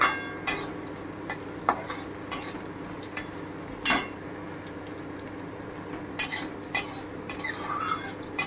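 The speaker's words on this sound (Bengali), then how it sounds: "হালকা করে একটু ভেজে নেব" Potato pieces fry lightly in a pan with a steady soft sizzle, broken by repeated sharp scrapes and clinks of a spatula stirring against the metal, close and fairly loud, without talk.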